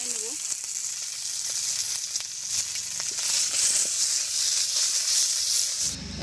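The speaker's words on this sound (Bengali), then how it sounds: "তো আমার মাছ ভাজিটা হয়ে গেছে" Fish sizzles and hisses steadily in hot mustard oil in a village kitchen. The frying noise is constant and fairly close, with faint clinks and scrapes throughout.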